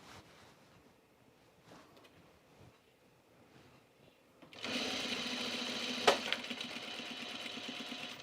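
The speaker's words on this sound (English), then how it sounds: "That was my bobbin. It's done winding, so it snaps." A home sewing machine winding a bobbin runs as a loud steady whir that starts suddenly midway, with a sharp click as the full bobbin snaps off, after a few seconds of quiet shuffling.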